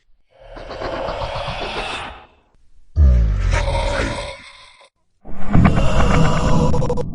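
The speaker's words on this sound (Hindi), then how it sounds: "ये जानवरों की आवाज है," Three long, loud growls, deep and rasping, each lasting a couple of seconds with short silences between, close and menacing.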